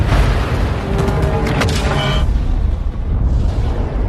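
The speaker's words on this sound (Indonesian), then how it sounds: "ia memerintahkan tim hitam untuk meledakkan markas dan kantor mereka" In a film, a headquarters and office are blown up: a heavy, rumbling explosion roars loudly and continuously, with crackling debris and brief metallic rattles layered through the blast.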